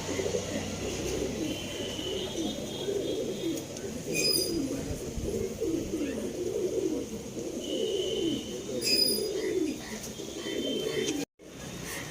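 Pigeons in a loft coo softly and continuously up close, a rolling layered murmur of many birds with a few brief higher chirps and a short flutter near the end.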